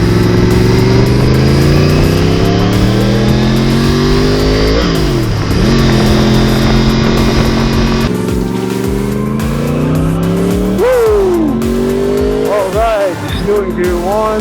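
Motorcycle engine revving in first gear at around 30 to 40 mph, a steady close drone rising and dropping with throttle changes and wind, with a rider's voice talking over it.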